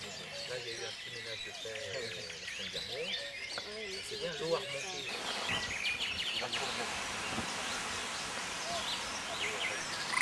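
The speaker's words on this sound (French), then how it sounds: "Des poules d'eau occupent les lieux depuis plusieurs années." Moorhens and other birds call at a pond, with scattered chirps and tweets at moderate distance under a voice talking throughout.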